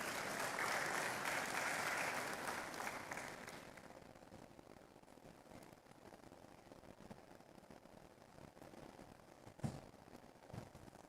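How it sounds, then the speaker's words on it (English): An audience applauds at a Lagos Business School executive programmes graduation, strong clapping for about three seconds that thins and fades into scattered claps and room noise. "Please, a round of applause as he comes to stage"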